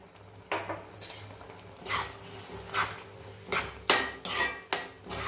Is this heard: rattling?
no